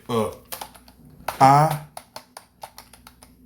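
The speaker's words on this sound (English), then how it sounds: "I'm about to type this." Rapid clicking of computer keyboard keys in an uneven typing rhythm, close and clear, with someone speaking briefly over the keystrokes partway through.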